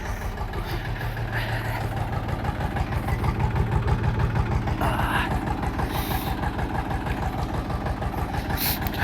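Budget Kentavr 244SX tractor with 400 engine hours idling while warming up on a frosty day, a steady close diesel clatter with a fast, even knocking rhythm under a low rumble.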